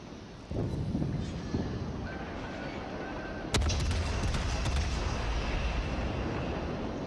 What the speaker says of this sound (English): So he missed with that last salvo